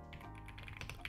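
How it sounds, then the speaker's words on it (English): Typing on a computer keyboard while entering Python code, a steady stream of soft key clicks with a few sharper taps near the end, close and alone. "we can do that by typing from song model"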